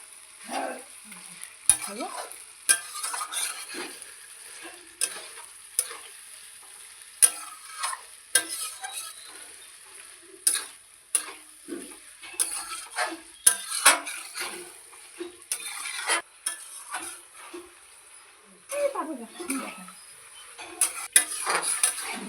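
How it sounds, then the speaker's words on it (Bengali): Green chili curry stirred in a pan, with repeated scraping and clinking of a utensil against the metal over a soft sizzle, steady and close with no talk. "এইভাবেই শুধু নাড়তে হবে। এইভাবে নাড়তে হবে, নাড়তে নাড়তেই হয়ে যাবে।"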